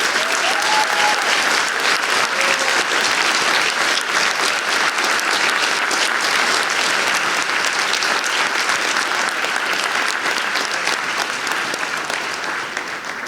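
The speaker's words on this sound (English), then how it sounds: "Please, everyone, join me in applauding Mr. Carey for leaving a legacy of innovation and achievement." Loud, sustained applause from a large audience at a junior high school graduation ceremony, dense clapping and some cheering that holds steady and eases slightly toward the end.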